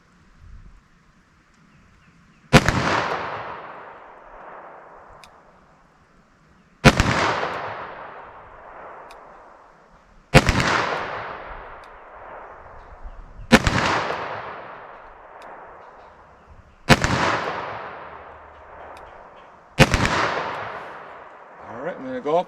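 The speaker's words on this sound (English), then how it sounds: "I'll do some double action shooting here and just see how these rounds do for me." Six loud gunshots from a .357 Magnum revolver with a 4-inch barrel firing Norma Safeguard rounds double action at 25 yards, each sharp crack ringing out with a decaying tail, spaced a few seconds apart outdoors.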